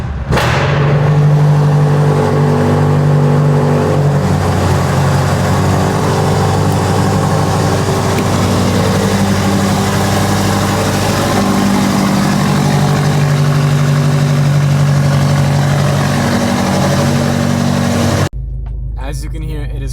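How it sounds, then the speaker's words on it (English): A BMW M5 Competition engine of about 800 horsepower cranks and catches on a cold start, then settles into a loud, high idle with a steady tonal drone for many seconds before cutting off abruptly. "let's get a little cold start of my M5 comp"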